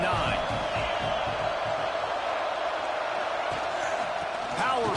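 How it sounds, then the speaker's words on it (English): A college football stadium crowd in Florida roars loudly and continuously to rally the defense, a dense sustained wall of cheering with a play-by-play commentator talking over it. "Listen to this crowd just shaking the girders of this place, trying to help their defense."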